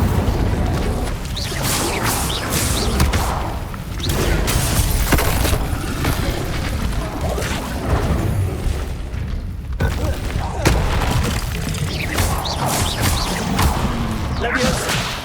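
Incendio fire spell cast in the Hogwarts Legacy video game, heard as a run of loud booming bursts and crackling blasts that repeat through the clip among other spell effects, mixed with voice.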